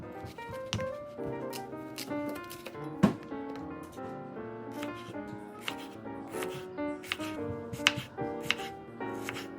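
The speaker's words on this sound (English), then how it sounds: "And then I'm just cutting up the white peach and I'm just slicing that up as well." A knife slices a white peach on a board in a series of quick, soft, uneven cuts and taps, close and fairly quiet, with no voices.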